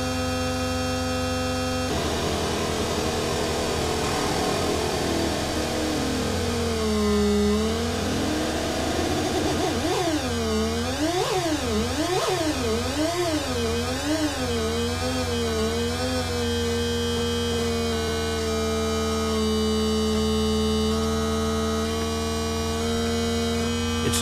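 A Bastl Kastle modular synth drones steadily, its pitch swooping up and down in smooth, repeated waves from sine-wave LFO pitch modulation, then settling into a steadier tone, with no talking.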